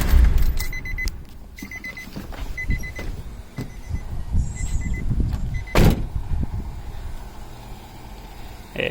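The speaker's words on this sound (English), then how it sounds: "I'm gonna go ahead and shut off the vehicle." A Nissan 350Z being switched off, with repeated electronic chimes, faint mechanical clicks and a sharp burst partway through over a low, steady rumble.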